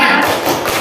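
A class of students in an Indonesian school lesson claps out the 'tepuk hebat' chant, a brief, close, loud burst of hand claps lasting under a second.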